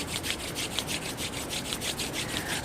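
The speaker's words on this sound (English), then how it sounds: "So bring your palms together and rub the palms." Palms rubbing together briskly in a steady back-and-forth rhythm during a Kundalini yoga exercise, a close, continuous dry swishing with regular strokes and no voices.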